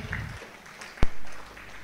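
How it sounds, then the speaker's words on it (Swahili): Applause from a panel discussion audience fading low, then a single sharp thump or knock followed by quieter scattered clapping trailing off. "makofi makubwa"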